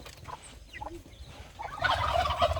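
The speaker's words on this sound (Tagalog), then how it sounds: "Kakaibang manok to, ah." A chicken gobbling and clucking close by in short bursts on a farm in the early morning, with a louder, busier stretch of calls toward the end.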